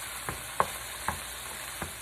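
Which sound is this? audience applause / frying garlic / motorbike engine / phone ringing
frying garlic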